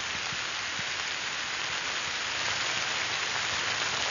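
Steady, dense rain with wind pouring over a ruined, abandoned building, a constant loud hiss with scattered drop impacts and no voices.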